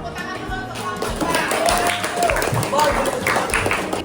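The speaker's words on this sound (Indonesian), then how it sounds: "Tepuk tangan dulu untuk" Applause for a school group after they present the tower they built, broadband clapping from an audience spread across the whole stretch under a steady crowd murmur, with voices talking over it.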